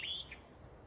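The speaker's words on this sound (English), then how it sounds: "I don't know what kind is that, you bird watchers?" A bird outdoors gives one brief high call that fades quickly into quiet background hiss.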